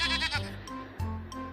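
Goat bleating in a told story: a couple of wavering, nasal bleats, the first longer and the second shorter, fairly close and clear with no talk over them.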